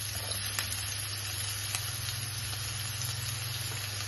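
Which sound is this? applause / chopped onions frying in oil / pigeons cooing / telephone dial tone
chopped onions frying in oil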